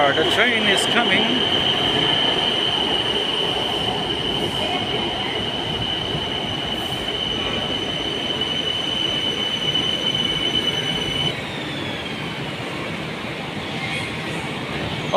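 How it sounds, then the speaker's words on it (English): Train arriving at a station in Thailand with wheels squealing, a sustained high-pitched metallic screech over rumbling rail noise that cuts off near the end, with voices in the background. "There you are, the train is coming."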